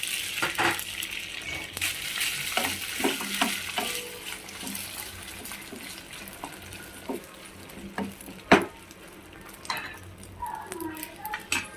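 Sabudana frying in a kadhai with oil, cumin, curry leaves and chillies, stirred with repeated scrapes and clinks against the pan over a light sizzle, one louder knock near the end.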